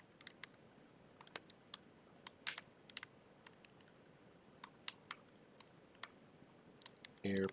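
Typing on a computer keyboard while entering input at a program prompt: scattered sharp key clicks in irregular bursts, fairly faint against quiet room noise, with a louder clatter at the very end.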